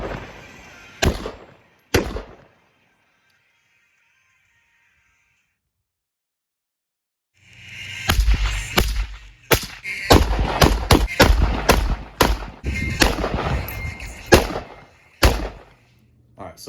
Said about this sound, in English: All right, Perry, if you can give me 3 rounds downrange